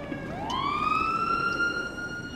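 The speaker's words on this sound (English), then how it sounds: "I hear the siren, but I don't see" A rising wail from an emergency vehicle siren sounds in the FiveM multiplayer mod of Grand Theft Auto V, holding a loud steady tone over a constant rumble of traffic and engine noise.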